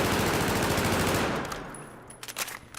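An ACWR rifle fires full-auto while aiming down sights in Battlefield 4, a loud rapid stream of shots that stops after about a second and a half, leaving clinking casings and a fading ring.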